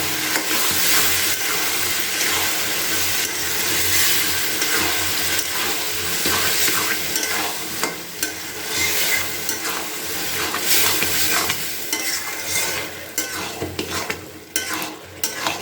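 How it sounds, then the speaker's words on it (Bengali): Boiled dal being stirred into frying spices in a pan for a dhaba-style egg tadka: loud, continuous sizzling and hissing with steady spoon scraping close up, and no voices. "এবার সেদ্ধ করে রাখা ডালটাকে আমি ওর মধ্যে দিয়ে দেবো দিয়ে খুব ভালো করে একটু নাড়াচাড়া করে নেবো"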